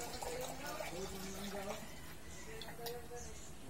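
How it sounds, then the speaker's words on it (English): Coconut water pours in a soft, steady trickle into a bottle, with faint gurgling and low voices nearby. "Next is pouring 150 ml of coconut water."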